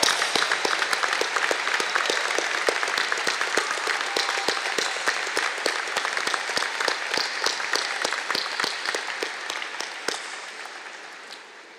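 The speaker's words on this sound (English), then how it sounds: "how about a big, big round of applause?" An audience gives a long, sustained ovation for parents and families, with many hands clapping in a dense, rhythmic wash that holds steady for about ten seconds before fading out.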